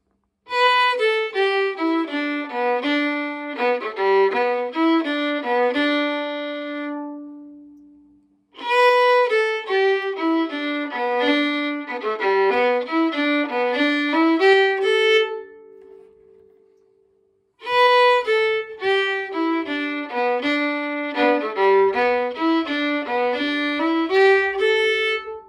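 The first phrase of part A of the hornpipe Master Shanley's, composed by Morris Lennon, is played three times on a clear, bright melodic instrument. Each pass is a lively run of distinct notes, close and alone, separated by short pauses.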